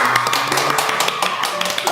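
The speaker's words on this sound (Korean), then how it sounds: "박수" A studio audience claps in a steady burst of applause as doctors are introduced on a Korean facial-contouring surgery talk show. It is dense and fairly loud, with quiet voices mixed in.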